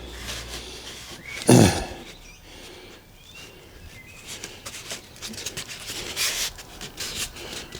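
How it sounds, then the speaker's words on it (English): Close, rough scraping strokes of a sanding block along an edge of a model aircraft build, with a sharp knock early on. "I'm going to get my sanding block and sand the edge down"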